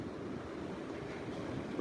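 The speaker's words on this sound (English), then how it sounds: "you still have large battering waves coming" Large waves batter the beach at Topsail Beach, North Carolina, during Hurricane Florence, producing a constant roaring wash of surf mixed with wind buffeting the microphone, steady and fairly loud throughout with no voices.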